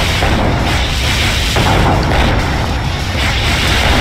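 Warship cannon fire in the video game Command and Conquer Red Alert 2, a dense, loud, continuous rumble of booms and blasts with no clear gaps.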